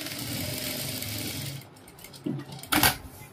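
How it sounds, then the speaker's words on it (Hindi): Sewing machine running a straight seam on net fabric for a dress, a close, steady stitching whir that stops partway, followed by a few sharp handling clicks and knocks. "अब इस जगह को हम यहाँ से पहले एक सीधी सीधी सिलाई मार लेंगे"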